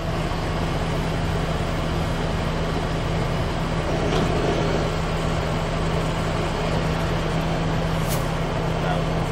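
A used Kitamura MyCenter HX1000i horizontal machining center has its spindle turning at 500 RPM in low range, giving a steady mid-pitched hum under broad workshop noise, with a couple of brief sharp clicks and continuous, fairly quiet sound.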